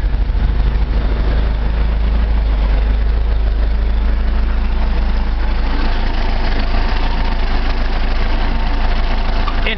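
A Volkswagen 1904cc engine fitted with a Solex 34 PICT-3 carburetor idles smoothly around 800 rpm, a steady low, even drone held close and unbroken throughout with no voices.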